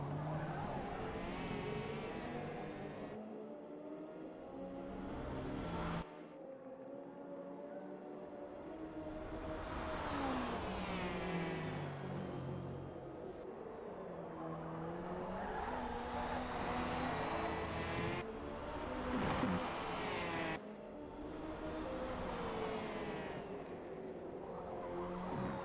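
GT race cars in a racing video game at the 12 Hours of Sebring, several engines revving, shifting and sweeping past one after another, loud and continuous with rising and falling pitch.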